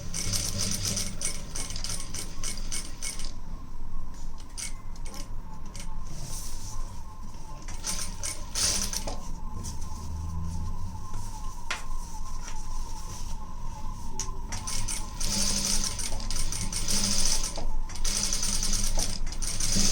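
A sewing machine stitches thread piping with a presser foot, its steady rapid needle chatter running close and continuous throughout, with a few small clicks and shifts in pace.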